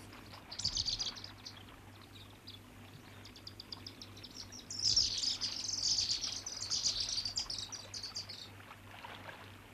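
Birds calling over the Zambezi lagoons, where cormorants and pied kingfishers gather. High chirps and twittering come in two bursts, faint to moderate, over a low steady hum.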